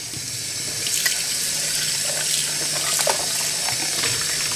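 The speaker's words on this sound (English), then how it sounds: "Now I'm going to rinse it out." Tap water runs steadily over a pan being rinsed, a continuous close hiss of flowing water with faint splashes and knocks.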